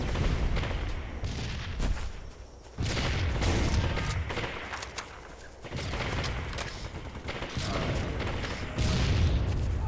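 Gunfire in Halo 3 multiplayer, dense rattling bursts and booming shots layered into a loud, near-continuous barrage with brief lulls between volleys.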